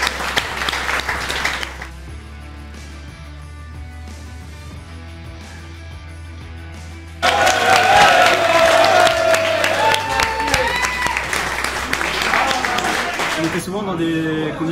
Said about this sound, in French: On peut faire un tonnerre d'applaudissements.